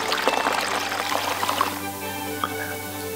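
Water pours from a kitchen sink into containers in a zombie apocalypse survival video game: a steady, close splashing stream that fills the first half of the clip, then gives way to a quieter tonal hum with a faint trickle.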